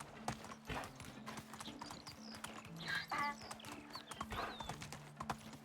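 A ridden horse's hooves clip-clop in a steady, brisk rhythm in the Medieval Dynasty game, with a short whinny partway through, over faint background ambience.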